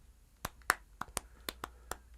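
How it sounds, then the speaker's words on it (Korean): Sharp dry hand claps from a recorded sample played back in an iOS music app, about eight quiet hits in an uneven rhythm over faint background hiss. "방금 녹음한 박수 소리가 재생이 되고 있죠"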